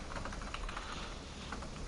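Soft, quick keystrokes clatter on a computer keyboard, a faint continuous patter of typing under a low background hiss.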